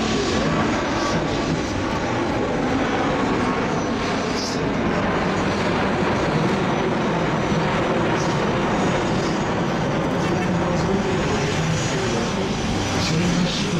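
An Airbus A380 airliner roars overhead while turning at the 2015 Paris airshow, a loud, sustained engine rumble that holds steady throughout, with faint voices beneath.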